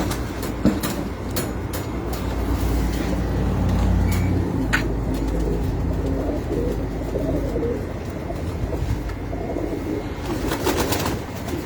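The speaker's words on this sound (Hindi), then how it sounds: "इसके साथ ये मेरा कबूतर है जी" Pigeons coo on a rooftop loft, soft repeated throaty calls over a low rumble and scattered clicks and taps, with no speech.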